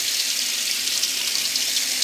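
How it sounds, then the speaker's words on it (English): Tap water runs steadily over an etched glass picture-frame panel, rinsing off etching cream in a sink, a continuous close splashing hiss with no pauses. "I'm going to take some water, run it under that."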